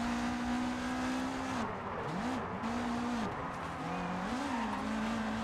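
Front-wheel-drive rallycross cars racing in DIRT 4, a continuous loud engine whine that dips and climbs with gear changes and throttle lifts, mixed with tire skids and nearby car noise.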